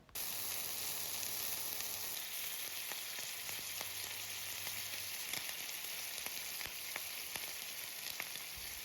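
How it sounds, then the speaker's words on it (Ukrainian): Loud, continuous sizzling of chicken and bacon frying in a pan, a steady crackling hiss with small pops throughout. "смажимо з обох сторін курочку та бекон і насолоджуємося цими неймовірними звуками"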